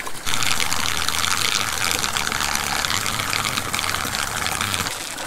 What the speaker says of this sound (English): Still waiting for it to drain.